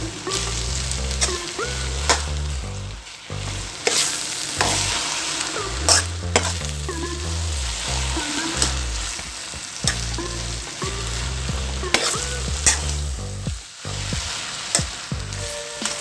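Chicken fried rice made with brown rice and barley is stirred in a pan after eggs are added, a constant sizzle with repeated scraping strokes, close and steady, under background music.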